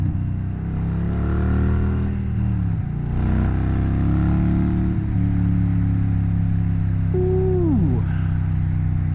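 A motorcycle engine hums steadily during a ride, loud and close, with pitch sweeping down as the rider shifts and slows, then a brief rising rev near the end; no talk.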